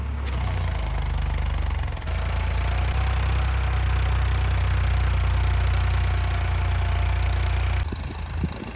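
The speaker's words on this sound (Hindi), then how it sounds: "ट्रैक्टर भी खड़ा है, अब ट्रैक्टर स्टार्ट होगा।" A tractor engine in a farm field runs loud and close, a steady low throbbing rumble that holds nearly unchanged from start to finish with a slight shift midway.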